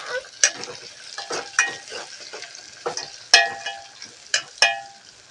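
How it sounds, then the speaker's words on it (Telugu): Fresh curry leaves and onions sizzle in a pan for a village-style spiny gourd curry, with a steady frying hiss and repeated sharp clinks and scrapes of a spoon stirring against the pan. "మంచిగా కలుపుకున్న తర్వాత మంచిగా ఫ్రై చేసుకోవాలి."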